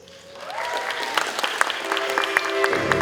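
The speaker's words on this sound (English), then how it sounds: "Round of applause." Applause from a conference audience at a social media panel session welcoming a moderator, building in over a sustained tonal music bed with scattered sharp claps rising above it.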